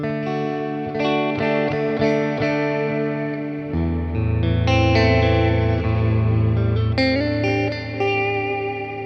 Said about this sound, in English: So clean tone with a bunch of reverb and delay on it.